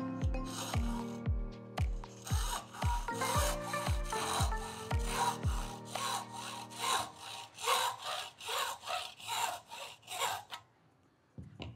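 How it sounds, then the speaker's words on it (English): A blade saws rhythmically around a stainless steel band on a barrel during a DIY barrel cut, with steady repeated back-and-forth rasping strokes, close and loud, no talking. "Now I'm going to slowly rotate forward, keeping the blade against the stainless steel band, trying to cut ahead the whole time"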